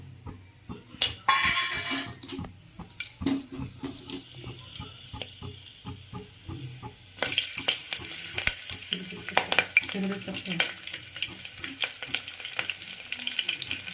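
Onions fry in oil and ghee with a close, crackling sizzle broken by spoon stirring and scraping, and the sizzle swells louder midway as more goes into the pan.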